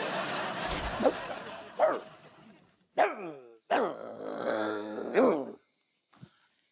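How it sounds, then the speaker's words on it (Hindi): A puppy yips and barks in several short, high bursts, close by, with some growly low noise at the start. "कौन भौंक रहा है ये कब से?"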